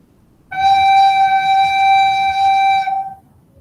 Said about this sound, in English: The G should sound like this.